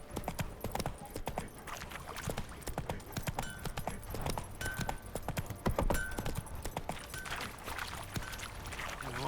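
Roach the horse trotting in The Witcher 3, hooves clip-clopping in a steady, fairly close rhythm over game ambience for the whole stretch, with a brief whinny-like hint.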